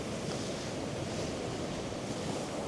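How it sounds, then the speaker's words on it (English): Seawater surges in through tidal channels on a rocky shore near St Mary's Lighthouse, a steady broad wash of moving water and surf blended with wind, faint and continuous. "we've got these amazing channels where the water's flowing in"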